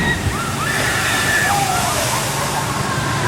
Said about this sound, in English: That's a big splash.